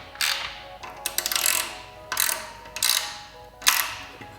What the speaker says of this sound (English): Now I just have to tighten all the bolts